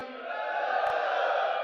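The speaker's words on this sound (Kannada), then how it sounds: "ನಮ್ಮ ವೀರ ಯೋಧರಿಗೆ ಒಂದ್ಸರಿ ಜೋರಾಗಿ ಜೈಕಾರ ಹಾಕಿ" At a political rally, a large crowd loudly cheers and chants in praise of the soldiers, a steady, sustained roar of many voices.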